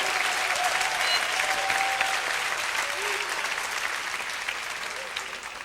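Sustained applause from a large crowd fills the whole stretch, steady and dense, slowly tapering slightly toward the end.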